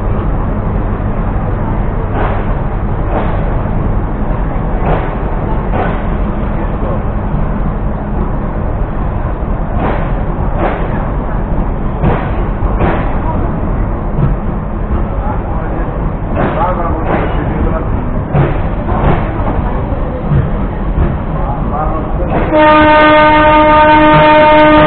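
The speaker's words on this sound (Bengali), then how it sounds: "তো দেখলেন আমাদের ট্রেনটি চলে গেল।" The Turna Express passenger train passes by at night with a loud, continuous rumble and rhythmic wheel clacks on the rails, and its horn sounds at the end.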